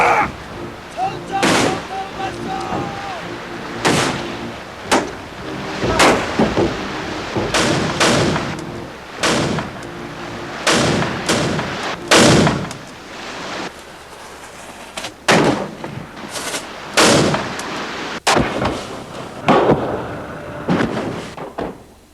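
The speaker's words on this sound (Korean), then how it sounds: "좌용포 발사! 쏴!" Joseon warship cannons firing at sea off Hansando, a series of loud booming blasts spaced irregularly with a few seconds between shots, over a low background rumble and occasional spoken voices.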